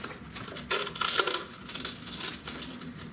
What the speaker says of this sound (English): I'm gonna pull back some of this glass. I got a blanket down to catch the glass.